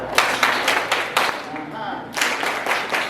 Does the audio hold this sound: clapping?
yes